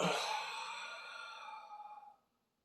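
A long, forceful exhale through the mouth during a yoga squat push-up, close and breathy, lasting about two seconds before cutting to silence.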